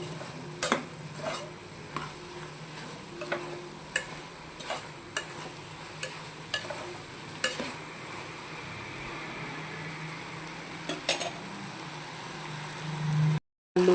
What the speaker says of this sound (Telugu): మంచి కలపెట్టేసుకుందాం మనము